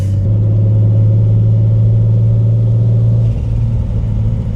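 A turbocharged Toyota Supra mk4 runs on a dyno with a loud, steady low engine drone that holds at one pitch, then shifts slightly near the end. It is heard alone, with no voices.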